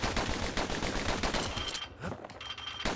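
Rapid bursts of dueling-pistol fire from the video game Bastion, a dense run of close, sharp shots for about two seconds, then a brief lull before another shot.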